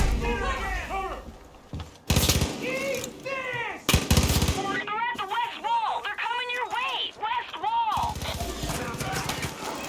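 Far Cry 5 co-op gameplay with bursts of gunfire, while players talk excitedly throughout over the game sounds.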